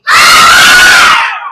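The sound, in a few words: children shouting "hore" in unison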